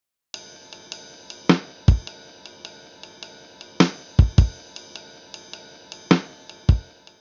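Swung drum groove exercise at a slowed tempo: steady light ticking hits with periodic deeper kick and snare accents in a relaxed, lopsided pulse, played alone.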